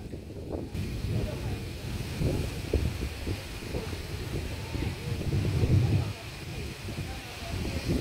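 Wind buffets a microphone outdoors at an open-air summer solstice concert, a steady low rumble with gusty swells, while a voice speaks over it.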